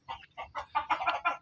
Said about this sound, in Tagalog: Yung mga manok nila dito.